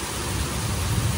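Heavy rain pours during severe weather with a tornado warning in Louisiana, a loud dense steady hiss with low rumbling underneath, constant throughout.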